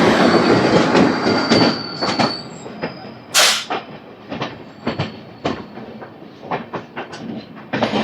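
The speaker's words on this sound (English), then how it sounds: "ఝాన్సీ నుంచి ఒక ట్రైన్ అయితే బయటకు వస్తుంది." The Karnataka Sampark Kranti Express passing near Jhansi, with a loud rolling rumble, rhythmic clickety-clack of wheels over rail joints and a brief high wheel squeal, heard close by from trackside.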